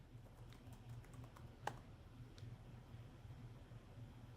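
A computer keyboard being tapped to enter a Linux terminal command, changing into the Nagios Fusion directory: faint, sparse keystrokes with one slightly louder click midway, in a quiet room.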